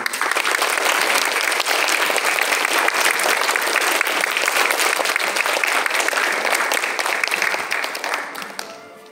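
Loud, sustained applause from a crowd at a primary school flag-bearer ceremony, a dense continuous roar of many clapping hands that starts to fade only at the very end.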